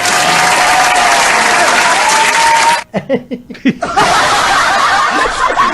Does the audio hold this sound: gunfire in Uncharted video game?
no